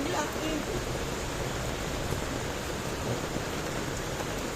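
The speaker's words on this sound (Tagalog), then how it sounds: "naabutan ng ulan. Bigla." Sudden heavy rain pouring down on a street during a storm, a dense, steady wash of noise that holds loud and even from start to finish.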